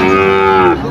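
A single loud, close moo from a bull or calf at Afzal Mondal's cattle market in Faridpur, a sustained low bellow that holds steady and then breaks off near the end, with no voices.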